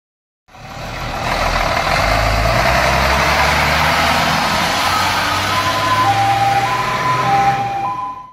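A Star 266 Polish off-road military truck runs its engine steadily and loudly up close, a sustained low rumble with a rising and falling mechanical whine layered on top, and no talking.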